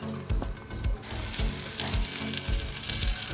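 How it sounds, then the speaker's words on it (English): Butter melts and sizzles in a pan set on a gas grill, ready for basting a tomahawk ribeye steak. A steady close crackle runs throughout, broken by a few soft knocks and clinks. "I'm also gonna put the pan in and let the butter melt and let the seasonings get ready to be basted onto the steak"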